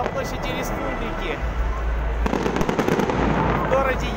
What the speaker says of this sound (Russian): Елка зажглась, сейчас салют.